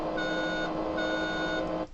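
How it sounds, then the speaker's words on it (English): Steady electronic beeping alert from a driving game, two long tones in a regular rhythm at moderate loudness, cutting off abruptly near the end. "And now I can see why I was getting beeped at"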